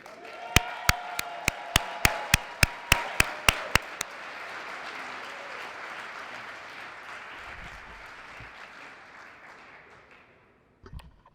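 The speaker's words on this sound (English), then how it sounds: "Clap it up for Jaylen Lee." An audience at a Black History Month celebration applauds for an award recipient. A few loud, evenly spaced claps open the sound, then broad sustained applause from the crowd follows and fades out.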